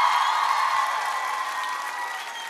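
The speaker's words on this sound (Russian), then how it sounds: "эти аплодисменты для вас" Studio audience applause on the live televised singing competition X-Factor 8, a bright, sustained wash of clapping with faint cheers that holds steady and slowly tapers toward the end.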